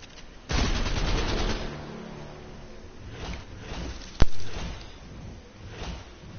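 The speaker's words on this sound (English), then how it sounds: "That was a gun." A loud burst of gunfire in Fortnite opens, then tapers into scattered quieter shots, with one sharp crack standing out later amid faint game sounds.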